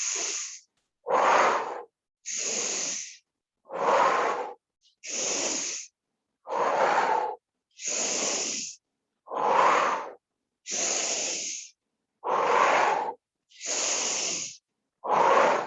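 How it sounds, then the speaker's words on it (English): Forceful huffing breaths during a mat breathing exercise come as about a dozen evenly spaced inhales and exhales, each a breathy hiss of about a second, close to the mic with short silences between them. "Inhale up, exhale, inhale. Make this huff and puffy."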